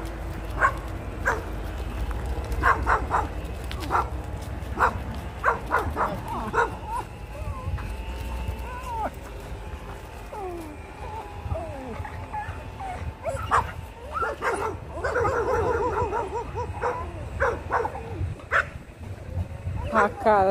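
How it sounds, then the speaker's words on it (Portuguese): Dogs bark in short repeated bursts along a rural path where land is being cleared, with a voice talking over much of it and outdoor background noise throughout. "E ali tem cachorro."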